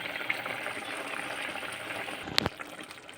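Semiya pulao, vermicelli cooked with mint, simmers in a pot with a steady soft bubbling hiss, broken near the end by one short sharp knock.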